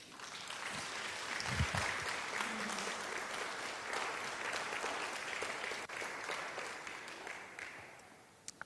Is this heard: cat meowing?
no